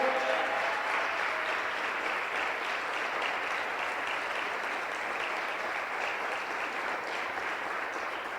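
Congregation applauding during an online church service, a sustained wash of many hands clapping at a steady level, somewhat distant, continuing for several seconds without talk.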